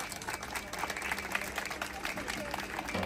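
An audience at a live folk music performance applauds steadily and loudly throughout, with crowd noise and voices mixed in.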